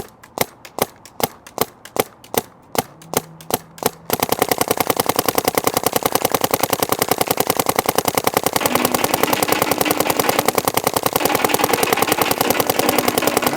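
A Dye CZR+ paintball marker fires paint in ramping mode at 10.5, first as a string of separate loud pops, then breaking into a sustained rapid rattle of shots close up that carries on to the end.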